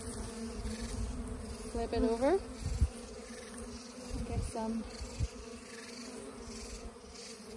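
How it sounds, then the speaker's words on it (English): Honeybees buzz in a busy, close drone as they are shaken off comb from a top-bar hive, with thumps of the comb and a few brief words of speech over the hum. "So I'm going to shake the bees"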